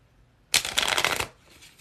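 A deck of playing cards is riffle-shuffled once, a quick crisp burst of fluttering card noise lasting under a second in an otherwise quiet room.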